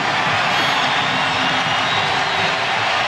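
A stadium crowd at an Auburn versus Florida college football game roars in a dense, unbroken wall of noise that stays loud for the whole stretch.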